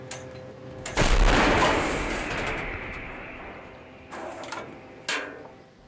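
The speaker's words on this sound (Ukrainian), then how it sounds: "Гармата! Постріл!" A loud artillery cannon blast booms out and rumbles away over several seconds, followed by a couple of sharper distant bangs.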